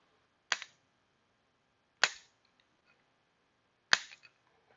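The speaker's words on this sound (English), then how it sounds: "we can then take the mallet and give it some strong taps while holding that steady" A mallet strikes a punch held against a stuck nut inside a socket, three sharp metallic taps spaced about a second and a half apart, close and crisp in a quiet garage.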